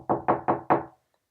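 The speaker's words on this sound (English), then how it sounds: "Suddenly, someone knocks on the classroom door." Four firm knocks on a classroom door come close together in an even rhythm, crisp and near, with silence after.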